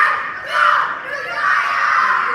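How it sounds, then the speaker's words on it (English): Preteen teammates cheer and shout together at an obstacle course training competition, a steady wall of excited young voices that swells and dips over a couple of seconds. "it's important that your teammates cheer you on there too"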